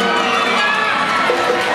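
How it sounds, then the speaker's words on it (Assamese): Crowd noise at a live Bihu show in Dhemaji: a dense, steady roar of audience cheering and likely clapping fills the whole short stretch, loud and continuous with no pauses. "সকলোৱে এটা ডাঙৰকৈ হাত চাপৰি হ'লে ভাল লাগিব"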